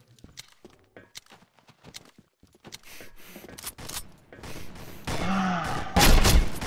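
Gunfire in the online shooter Combat Arms with an R870 shotgun in play: scattered sharp shots and mechanical clicks and footsteps build into a dense, loud burst of fire near the end.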